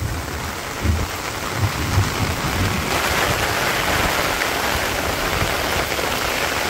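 Heavy village rain in Bangladesh, a steady roaring wash of falling water with a few low thuds early on, swelling slightly louder after a few seconds, no voices.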